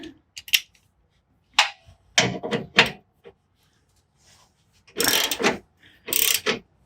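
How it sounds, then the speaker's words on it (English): A ratchet loosening a bolt on a Jeep Gladiator during a 2.5-inch lift install: several bursts of close, sharp clicking separated by pauses, with quiet gaps between strokes. "I'm going to go ahead and loosen the other side just to get that space"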